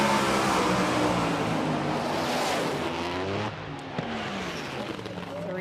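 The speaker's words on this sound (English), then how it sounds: "You can really hear that clutch application just pull the engine down." A drag race car launches at Bradenton Motorsports Park. The engine roars and drops in pitch as the clutch bites and pulls it down, then continues more quietly, with some background noise.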